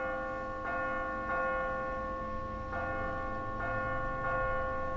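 A heavy bell rings out loudly in The Walking Dead video game, struck about five times at uneven intervals, each strike blooming into a long metallic hum over a steady background rumble.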